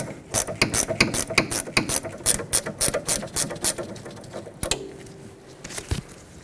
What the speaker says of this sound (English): you can use either a socket or another wrench on the mounting nut to remove that the rest of the way